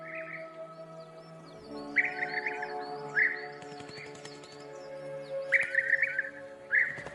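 Birds returning in spring to breed in southern European deciduous forest, a mix of bright chirps and tweets repeating in short bursts over a layered, tonal chorus, close and clear with no talk.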